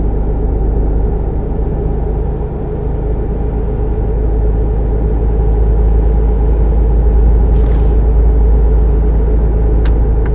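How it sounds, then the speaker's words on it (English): A truck engine in American Truck Simulator, freshly rebuilt with new main parts, holds a loud, steady low rumble that drones on without pause, with no talking. "It's making the sounds that a new truck would make."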